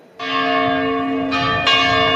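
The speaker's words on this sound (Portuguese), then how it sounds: "Os sinos da igreja de Nossa Senhora do Rosário dos Pretos, no Pelourinho, levam Raimundo de volta aos tempos de crian" Church bells of Nossa Senhora do Rosário dos Pretos in the Pelourinho, Salvador, ringing loud and close with long sustained metallic tones, fresh strikes layering over the ringing.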